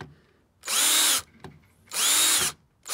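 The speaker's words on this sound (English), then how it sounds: "You're now screwing something directly into the brick." Power drill driving a screw into a brick wall, two loud sustained whirring bursts of about half a second each, separated by a short pause with faint handling noise, close up with no speech.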